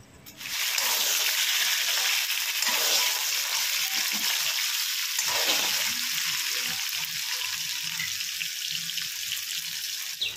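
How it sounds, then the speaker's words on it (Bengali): Potato pieces frying in oil with salt added, a steady broadband sizzle running continuously and fairly loud throughout, with faint low bumps of handling underneath. "দিয়ে এখন আলুগুলো বেশ ভালোভাবে একটু ভেজে নেব"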